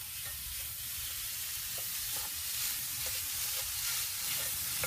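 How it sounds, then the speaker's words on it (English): Steady sizzling and crackling of rice frying in hot achiote oil in a pan, with occasional soft stirring scrapes, close and continuous. "I'm going to add my achote oil here without the"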